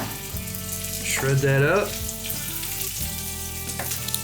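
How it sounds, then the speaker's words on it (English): Wagyu beef browning in a pan sizzles and crackles steadily up close, with a brief metallic scrape partway through and a single spoken word over the frying. "while our Wagyu is browning"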